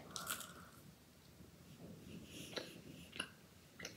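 Someone bites into a blueberry-flavoured macaron, giving a few soft, close crunches and squishy chewing sounds against quiet room noise.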